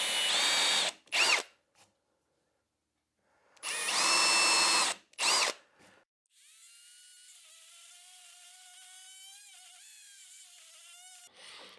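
Oscillating multi-tool cutting a mortise in wood: two loud buzzing bursts of cutting separated by silence, then a quieter sustained high whine with shifting pitch as the tool runs lightly, stopping near the end.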